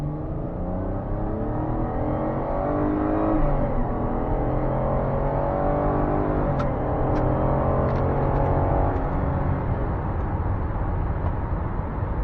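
A 2020 Dodge Grand Caravan minivan accelerates gradually from inside the cabin, with a steady engine drone rising slowly in pitch under constant road and wind noise, moderately loud throughout.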